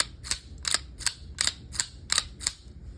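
A Star BM9 9mm pistol's slide is racked seven times in a steady rhythm, each cycle a sharp close metallic clack, with nothing else heard.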